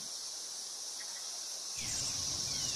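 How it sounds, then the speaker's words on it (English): Cicadas in the trees keep up a steady, high, dense drone that swells slightly fuller partway through, with no talking. "Well, you can certainly hear the cicadas."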